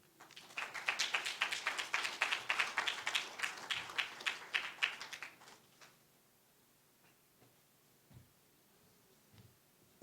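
An awards ceremony audience applauding in a hall, a burst of many hands clapping for about five seconds that then fades out, leaving quiet room tone with a few scattered claps.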